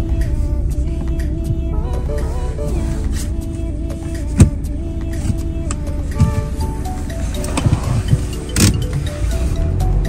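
A 4x4 vehicle climbing a snowy mountain road on the way to Tungnath, steady close engine and cabin drone with tyre rumble and a few small knocks and rattles, no talk.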